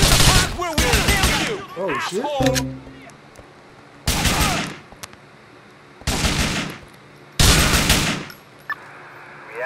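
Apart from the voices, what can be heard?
gunfire in video game GTA IV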